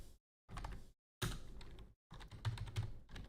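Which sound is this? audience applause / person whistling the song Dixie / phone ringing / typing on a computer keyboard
typing on a computer keyboard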